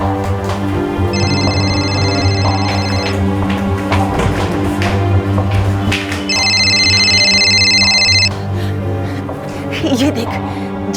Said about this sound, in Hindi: माँ, ये फोन किसका बज रहा है? शायद बाथरूम से आवाज आ रही है